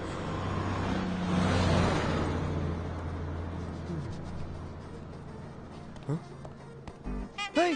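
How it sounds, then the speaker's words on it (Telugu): A bus pulls away from a hill-station stop, its engine rumble swelling and then fading into the distance. Voices break in near the end. "బస్ వెళ్ళిపోయింది"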